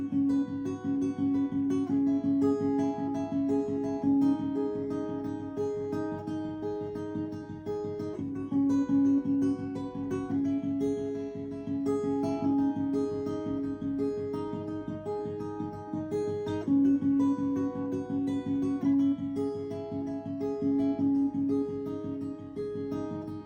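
A guitar riff from a home-recorded song, a repeating pattern of clear sustained notes played steadily and prominently for about twenty seconds, with no talking.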